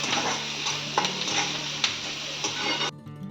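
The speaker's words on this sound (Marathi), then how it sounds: "कांदा थोडासा लाल होऊन द्यायचा." Onion and green chilli frying in a pan for a Konkan vegetable dish, a steady loud sizzle with a few spoon scrapes and clinks of stirring, cutting off abruptly near the end.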